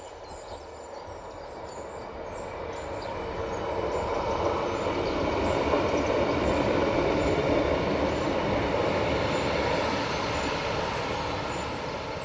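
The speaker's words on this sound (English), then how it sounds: "Here comes the train. Can you hear it?" A train of two coaches passes on the railway, a steady broadband rumble that swells as it draws near and holds loud through the pass, alone with no talking.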